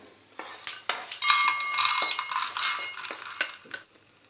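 A spoon scrapes and clinks against a metal pan while fried sundakkai are moved into another vessel, a quick run of sharp metallic taps and scrapes over a faint sizzle, close and fairly quiet.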